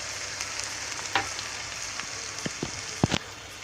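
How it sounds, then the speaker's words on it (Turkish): Fried minced meat sizzling in a pan as a glass of water is poured in, a soft continuous crackle broken by several sharp spitting pops toward the end. "Bir su bardağı su ekliyorum içerisine."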